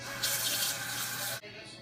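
Warm tap water pours steadily over hands being washed at a sink, a close hiss that cuts off abruptly near the end.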